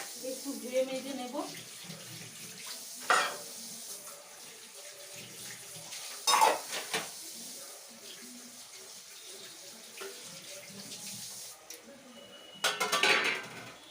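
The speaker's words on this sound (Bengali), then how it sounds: "এই বাসন কোসন নেব, একটু ধুয়ে মেজে নেব।" Pots and dishes being washed and scrubbed at a tap, running water with scattered clanks and rattles of metal utensils, close by and moderately loud.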